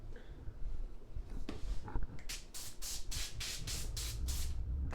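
A spray bottle spritzes in a quick run of about eight short, sharp bursts, close by, after some faint handling noise.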